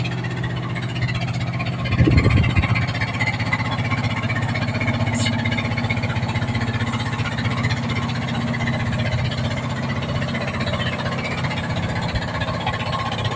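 A motor boat chugs along the winding Magra river beside a century-old house, its steady low engine drone holding at an even level throughout, with a brief louder swell early on.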